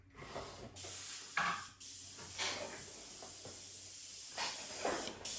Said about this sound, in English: Get my airbrush over here.